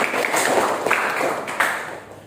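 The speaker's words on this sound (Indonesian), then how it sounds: "kasih aplaus, tepuk tangan." Classroom applause, a group of students clapping hands together at moderate volume, steady and dense throughout without speech.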